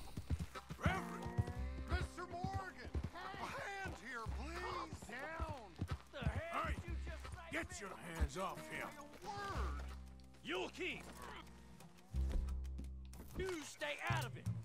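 Horse hooves clip-clopping with a neigh in Red Dead Redemption 2, the rhythmic steps heard under near-constant talk from a man, with music and game sounds mixed in.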